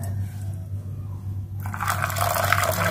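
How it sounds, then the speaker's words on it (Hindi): Water poured onto almonds in a bowl for soaking, a quiet trickle that swells into a louder, brighter close splash halfway through, with no talk. "इसमें पानी शामिल करेंगे।"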